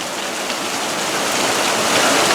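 Heavy rain pours down steadily outdoors in Prescott, Arizona, a dense, continuous hiss that stays loud and even throughout with no voices.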